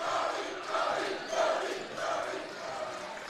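High school basketball student section cheering and chanting from the stands, a distant crowd roar with rhythmic surges of voices rising and falling across the moment.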